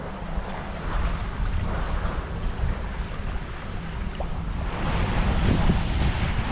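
A sailboat under sail with its engine off in a strong easterly wind, headed for White Cove on Catalina Island: a steady rush of wind across the microphone over water and hull noise, continuous and loud, with no voices.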